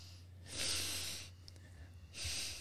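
Two sharp nasal sniffs, breathy and hissy, separated by a short pause, faint and close against a low background hum.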